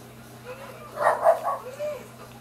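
Dog barking in Assassin's Creed Revelations, a short burst of a few yips and barks clustered near the middle, moderately loud over a steady low game hum.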